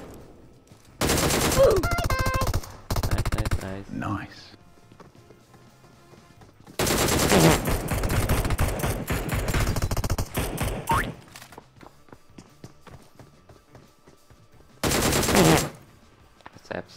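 Automatic weapon fire in PUBG comes in three loud, rapid bursts, the longest a sustained rattling volley, separated by quieter stretches with voices talking.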